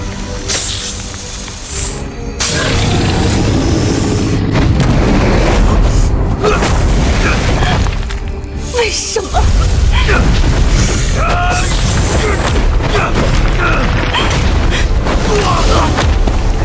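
Explosion effect from an animated Chinese donghua (Yuan Long), a character detonating his inner spirit: loud, sustained rumbling booms that roll continuously through the scene with brief dips, dense and heavy with scattered higher crackle over the top.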